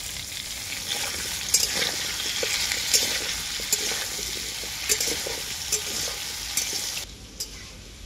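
Salted potato pieces fry in a pan with a steady, close sizzle, broken every second or so by sharp scrapes and clicks of a spatula stirring them, with no voices.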